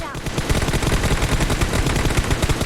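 Rapid automatic gunfire from an M762 rifle in the PUBG Mobile video game: dense, evenly spaced loud shots repeat throughout in a fast steady rhythm.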